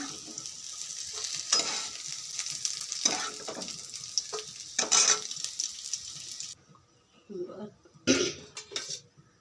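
Pointed gourd and paneer fry in a pan with a soft sizzle, stirred with scraping utensil clatter and pot knocks, while a person talks and coughs nearby.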